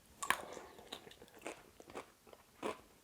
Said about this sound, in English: crunch from the mangetout is delicious